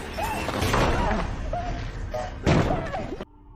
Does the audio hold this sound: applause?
no